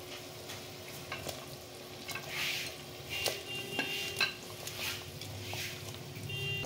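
Prawns fry gently in a pan for a malai curry, giving a quiet steady sizzle broken by occasional stirring scrapes and light clinks of utensils.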